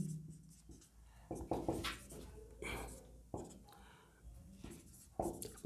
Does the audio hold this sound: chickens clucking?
no